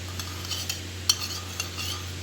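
Spoon stirring milk and green food colouring in a bowl while making sweet rice, with soft scraping and a few light clinks against the bowl over a steady low hum.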